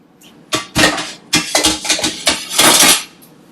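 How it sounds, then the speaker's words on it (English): A big metal spoon clatters and scrapes against a pot while minced garlic goes into melted butter for crawfish Monica, in a loud, close burst of repeated clanks over about three seconds, no speech. "I'm just going to grab a big spoon and throw in some minced garlic."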